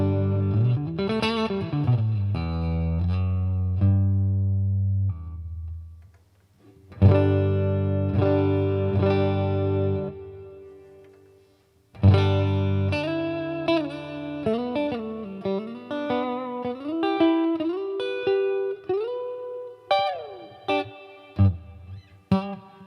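Boss Katana 50 MK II guitar amp on its clean channel with the variation switch engaged, playing bright, shimmering chords and single notes with a chorus-like sheen, loud and close, in several phrases separated by brief pauses.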